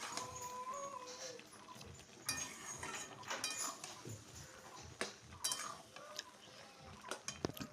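Jujube (kul) pickle being stirred in a cooking pot, giving a busy run of scraping and clinking utensil strikes with sharper bursts over a steady background clatter.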